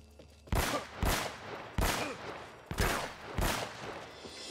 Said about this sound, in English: Yes, big scary gun.